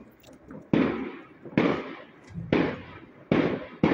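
Fireworks on bonfire night in Leeds, four loud sharp bangs spaced roughly a second apart, each with a short rumbling tail, close by and outdoors.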